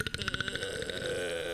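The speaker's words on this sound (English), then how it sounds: "Oh god, and I burped." A single close, rumbling human burp rolls out in rapid pulses, then trails into a sustained low voiced tone.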